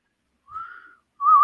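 A person whistling two short notes close by, a faint wavering tone followed after a pause by a louder, steadier one, with silence around them.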